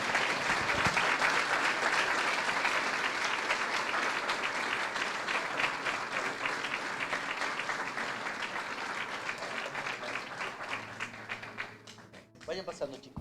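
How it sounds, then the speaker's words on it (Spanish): A church congregation gives loud, sustained applause with dense clapping and some voices, fading and thinning out toward the end. "Dale un fuerte aplauso"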